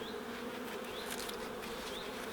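A swarm of about 20,000 bees gives a dense, continuous buzzing drone, close and steady throughout with no voices.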